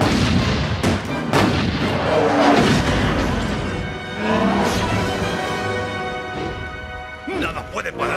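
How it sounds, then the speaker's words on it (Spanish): Heavy, loud booming bursts from bombers firing on a giant robot in an animated film, overlapping blasts and crashes under a sustained rumble, with shouting voices in the mix. "¡Bombarderos, disparen al robot!"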